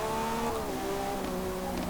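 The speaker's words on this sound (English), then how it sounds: "a full production vehicle from Lamborghini has never revved quite so highly as that" A 2024 Lamborghini Revuelto in Forza Motorsport revs hard at very high engine speed, a loud sustained whine that shifts slightly in pitch over a brief moment, heard alone.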